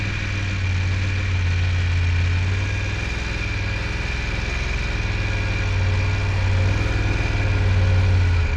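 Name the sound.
motorcycle engine during slow-speed U-turn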